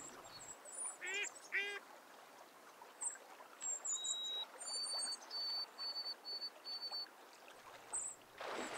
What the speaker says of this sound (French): Les jeunes colverts iront bientôt barboter dans son sillage.